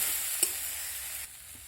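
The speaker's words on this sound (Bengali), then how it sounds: "অল্প একটু জল দেবো দিয়ে মশলাটাকে খুব সুন্দর করে কষিয়ে নেব" Steady high hiss of a spice paste frying in a pan, with a brief clink of a utensil near the start; no voices.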